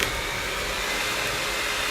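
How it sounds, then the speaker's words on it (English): An electric mixer whips cake cream in a steady, continuous whirring drone. The hum stays loud and close and holds an even pitch from start to finish, with no voices. "Now we're gonna mix until it turns to cream."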